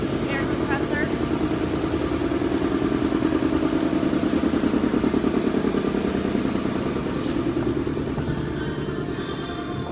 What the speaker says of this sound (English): You know what this machine is? Air compressor.